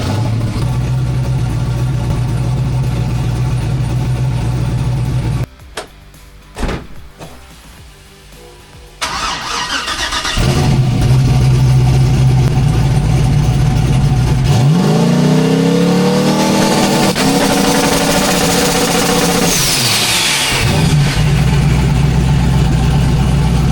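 Car engine run by a Holley ECU while fuel pressure is adjusted, idling with a steady rumble, briefly cutting out and sputtering, then restarting and revving up and settling into a louder idle, close by.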